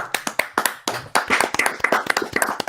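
Several people clapping in a room, sharp irregular hand claps of moderate loudness, uneven and scattered rather than a full ovation, with no talk over them.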